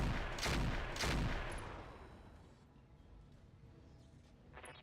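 Mech weapons fire in Roguetech, a BattleTech mod, with a salvo launched at once: two heavy, loud bursts in quick succession that fade into a rumbling tail, then a faint later crackle.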